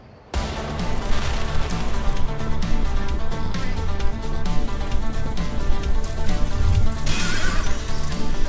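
Horses neighing and hooves pounding during a horse race cutscene, heard as loud repeated whinnies over a dense, continuous drumming of hoofbeats with no speech.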